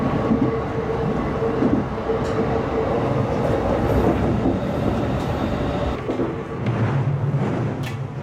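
A JR Chuo Line train runs through Yamanashi, heard from inside as a loud, steady rumble with rhythmic wheel clatter and occasional faint squeals, continuous throughout.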